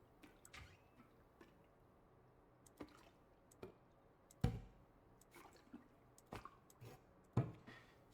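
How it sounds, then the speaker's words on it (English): Water draining out of a household object being packed, falling as faint, irregular drips and small splashes spread over several seconds, with a few louder plops standing out in a quiet room. "Can I drain it? It's obviously got water in it."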